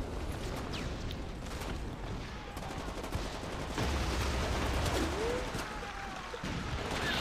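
Scattered gunfire crackles at the player amid a noisy war-zone firefight in Splinter Cell: Double Agent, bursts and single shots at mid distance over a constant rumbling backdrop, with some brief vocal sounds.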